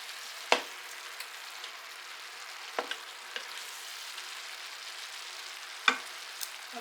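Smoked sausage and cabbage frying in a pan are stirred, with a faint, steady sizzle and a few sharp clacks of the utensil against the pan spread out over several seconds, no voices.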